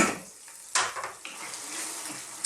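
A broccoli cheese bake mixture cooking in a pan, a soft sizzle broken by a few stirring scrapes and utensil clinks, close and fairly quiet, with no voices.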